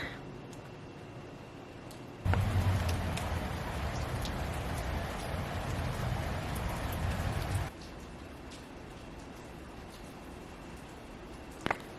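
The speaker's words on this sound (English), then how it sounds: "it's raining again" Rain falls steadily in a loud wash of patter that swells suddenly, holds for about five seconds, then drops back to a softer, lighter drizzle with a few isolated drip clicks.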